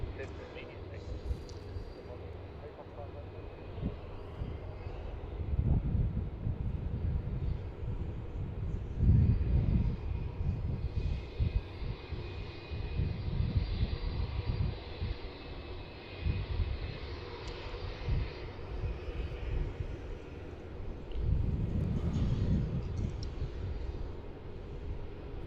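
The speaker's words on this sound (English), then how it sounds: "Looks like we have another heavy taxiing past as well. Jetstar 787 probably being moved towards T4 or the hangars." A Jetstar Boeing 787 taxiing at Melbourne Airport, a low distant jet engine rumble that swells and fades, with a person talking over it at times.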